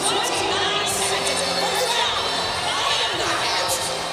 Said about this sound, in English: Butterbean is victorious as the crowd goes crazy.